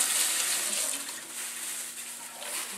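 Green onions being washed under a running kitchen tap make a steady close splash and patter of water, with no talking.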